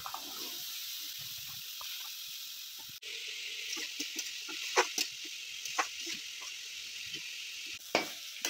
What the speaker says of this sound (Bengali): কড়ায় সাদা তেল দিয়ে দিচ্ছি, ফুলকপি আলু দিয়ে দিচ্ছি।